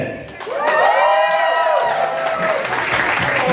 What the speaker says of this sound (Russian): Если вам понравилось танец девушек, ваши аплодисменты.